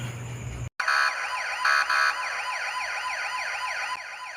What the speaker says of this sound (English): If you find the siren too noisy and you keep your speakers away